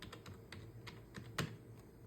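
Quick, steady keystrokes on a computer keyboard as a mobile number is entered, close and crisp, with one slightly louder tap near the end and no talking.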